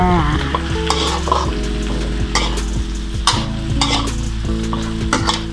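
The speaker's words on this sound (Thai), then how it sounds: "ใส่ฟักทองลงไปเลยนะคะ ฟักทองลงไปผัดเลยค่ะ" Pumpkin is stir-fried with egg in a hot pan, giving a loud, continuous sizzle. A spatula scrapes and clatters against the pan in a repeated rhythm, close up, with no talking.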